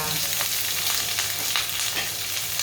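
Vegetarian stir-fry with onion and garlic, made without egg, sizzles steadily in a pan, a loud continuous frying hiss with faint stirring scrapes throughout.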